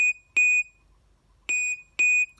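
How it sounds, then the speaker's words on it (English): An electronic alarm clock radio beeps in short, loud tonal bursts: one beep, a pause, then two more in quick succession, against a quiet background. "You could get to hear the different alarms."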